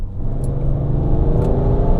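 A tuned BMW 335d diesel with a 6-speed automatic pulls hard under acceleration, its engine drone rising in a deep, steady rumble heard from inside the car, loud and continuous.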